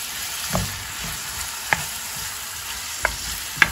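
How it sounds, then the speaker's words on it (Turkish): Onions sautéing in plenty of oil in a pan give a steady low sizzle, broken by a few sharp scrapes and clicks of stirring spaced a second or so apart. "Soğanı kavrulacak."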